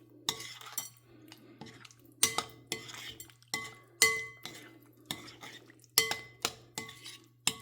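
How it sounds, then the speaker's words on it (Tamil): Eggs being stirred into bajji batter in a bowl for egg bajji, a spoon clinking and scraping against the bowl in repeated sharp strokes, close and fairly loud over a steady low hum, with no talking. "முட்டையெல்லாம் இதில் போட்டுருங்க. போட்டுட்டு நல்லா கலந்து விட்டுக்கோங்க."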